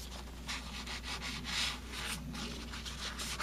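Light hand sanding on a van side door under repair: a close, steady run of soft rasping strokes with a gentle back-and-forth rhythm and no talking.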